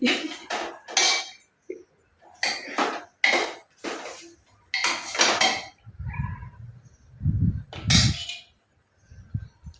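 A lid goes onto a pressure cooker of mutton, making a close run of loud metallic clanks and rattles in irregular bursts, with short pauses between.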